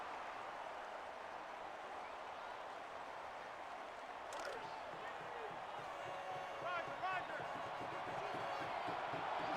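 Steady stadium crowd roar from an NCAA college football video game, Georgia Tech at Florida State, a dense continuous wash of noise that swells slightly toward the end, with commentary voices talking over it.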